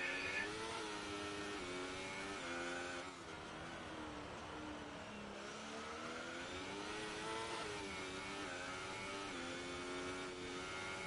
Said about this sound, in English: Seems to have little trouble with traction, or is just over revving the engine.